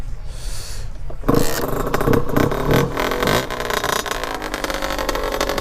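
A 50cc motorcycle engine running cold, starting after a quiet moment with a sudden burst, then idling with a buzzy, rattling rhythm and a few rising revs, loud and close, with no talk.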